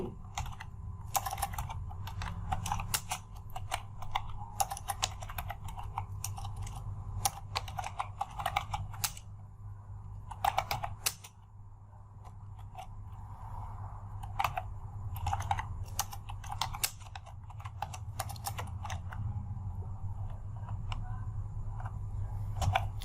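Steady, rapid typing on a computer keyboard while entering text in an Excel spreadsheet, close and continuous with irregular key clicks and occasional louder strokes over a low constant hum.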